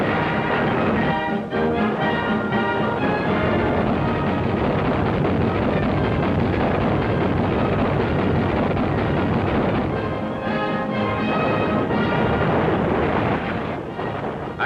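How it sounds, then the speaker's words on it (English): American naval guns firing on the Solomon Islands, in a wartime newsreel: a loud, continuous roar of heavy gunfire and rumbling blasts that fills the whole stretch, with surges around the second and tenth seconds. "American naval guns open up on the Jap-held Solomon Islands."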